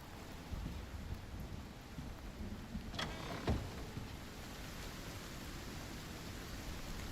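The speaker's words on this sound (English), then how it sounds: "And it's raining, lovely." Steady rain in a survival video game, a continuous hiss with a brief louder crackle in the middle, no talking.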